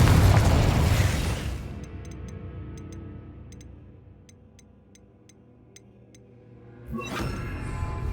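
A loud Confringo blast spell booms in Hogwarts Legacy, a big rumbling explosion that slowly decays into quiet ticking, then a second burst swells up near the end.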